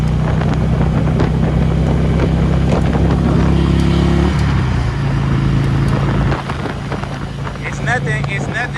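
A rebuilt Harley-Davidson motorcycle out riding makes a loud, steady engine rumble buried in heavy wind buffeting. The engine tone dips partway through, then the bike carries on more quietly.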